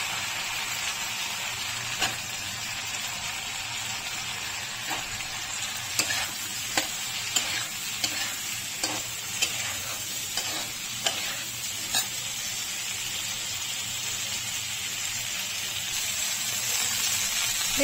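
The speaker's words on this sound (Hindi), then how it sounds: "मसाला भुनने के बाद इसमें मैंने जो भिंडी काटी है वो डाल दी।" Chopped okra frying in roasted masala in a pan: a steady soft sizzle with scattered clicks from stirring, moderately faint and without talk.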